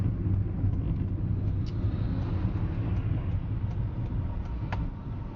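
Car engine and tyre noise, steady and fairly loud, on a rural bend with another vehicle passing alongside; a continuous low rumble with no voices.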